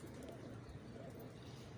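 Soft, low cooing from fighter pigeons murmurs steadily throughout, quiet and continuous with a faint background hum.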